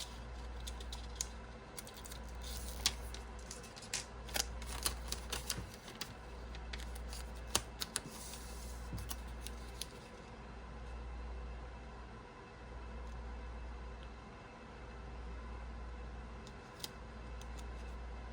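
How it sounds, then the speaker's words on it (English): Scissors snip through a clear sticker sheet in short, crisp clicks and cuts scattered across a quiet indoor room over a low rhythmic hum, with no talking. "I'm going to cut this just a little wider than I need it to be"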